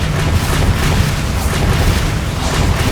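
A spell being cast in Hogwarts Legacy, a loud, dense magical burst with a deep rumbling boom that sustains for a few seconds.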